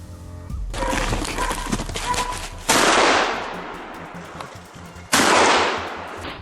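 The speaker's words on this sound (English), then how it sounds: "Once I locked down the location, I quickly fired." Gunshots fired at a wild boar during a hunt outdoors: three loud, sharp blasts, each followed by a long decaying echo, the first under rustling movement and the last two spaced a few seconds apart.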